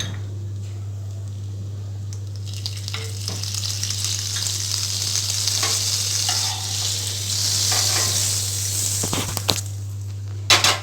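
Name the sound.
frying a sandwich in butter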